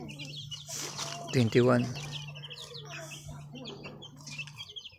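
Month-old chicks peep in short bright bursts, with a louder cluck-like call near the middle, while a person talks over them.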